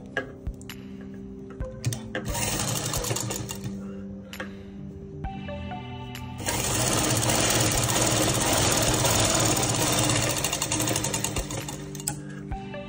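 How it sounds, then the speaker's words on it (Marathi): Sewing machine stitching a folded fabric strip for a six-month-old baby's dress, its rapid mechanical chatter running in bursts, with the longest steady run in the second half, close and loud. "इथे आपण शिलाई मारून घेणार आहोत"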